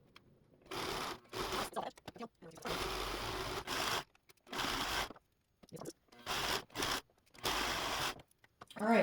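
A serger stitching and trimming vintage quilt fabric, running in repeated bursts of a few seconds each with short pauses between, close and fairly loud.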